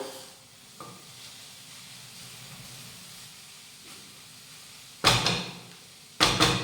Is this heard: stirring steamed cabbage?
yes